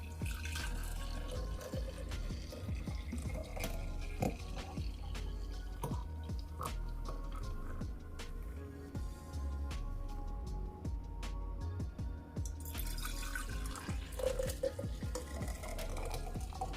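Blended homemade juice pours and trickles into jars, a low liquid gurgle with scattered drips and small clinks of glass, fairly quiet and close, with a brighter splashing burst near the end.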